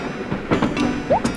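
Train rolling along the track in the Animal Crossing video game, a brief run of soft rhythmic rumbling and clacking with a few higher tonal blips, heard alone with no talk.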